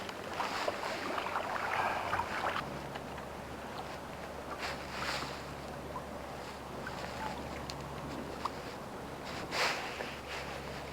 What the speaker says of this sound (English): this is downright unpleasant in this cold wind